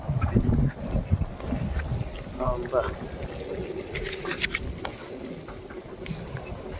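Strong wind at an outdoor cooking spot rumbles and buffets the microphone in uneven gusts while people talk nearby.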